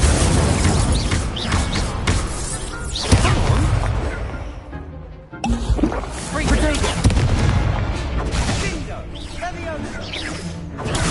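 Incendio fire spells cast in Hogwarts Legacy combat, a rapid chain of loud bangs, whooshes and crashing impacts with a brief lull midway, under frequent shouted voices.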